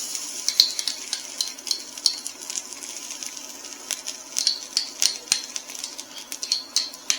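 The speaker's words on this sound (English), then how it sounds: "We're going to add our 2 tablespoons of tomato paste and just let that fry up." Two tablespoons of tomato paste fry in a pan on medium-high heat, crackling and spitting in bright irregular pops with occasional utensil scrapes, close and fairly quiet.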